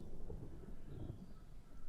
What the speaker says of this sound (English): Some thunder going on in the sky.